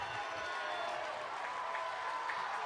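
A crowd in the stands at a high school state championship baseball game cheers and applauds, a steady, sustained roar of many voices heard from a distance and at moderate volume.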